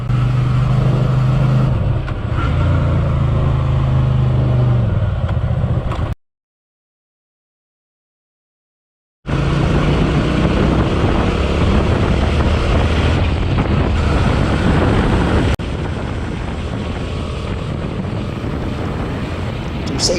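A Hyosung Aquila GV300S motorcycle ridden fast on a road gives a loud engine drone heavily mixed with wind roar, broken by a few seconds of silence partway through.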